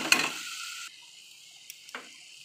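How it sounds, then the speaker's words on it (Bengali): Spice paste with garam masala frying gently on a low flame in a pan, a brief hiss and scrape at first, then near quiet with a couple of small spoon taps. "হালকা ফ্লেমে কষাতে লাগবো"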